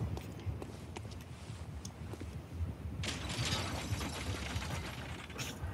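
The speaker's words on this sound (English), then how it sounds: "You gotta crank the lever to bring it back down." A lever cranked to lower an elevator in the Bloodborne video game: a steady run of mechanical ratcheting, gear clicks and creaks, growing brighter and busier partway through, with no talk over it.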